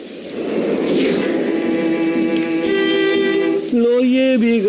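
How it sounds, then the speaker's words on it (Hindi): Heavy cartoon rain comes down as a loud steady hiss throughout, with bright tonal musical lines rising above it near the end and no speech heard. "बारिश की हो गई भरमार"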